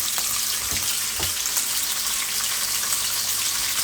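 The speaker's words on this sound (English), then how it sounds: "We're just going to let them simmer now" Fish head soup simmering in a pot on the stove, a continuous close bubbling hiss with a couple of soft knocks early on, no voices.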